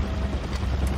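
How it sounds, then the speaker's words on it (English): Helicopter in the video game Far Cry 4, a steady low rotor rumble and whir filling the whole second with no voices. "Another chopper, another chopper. Where's the chopper?"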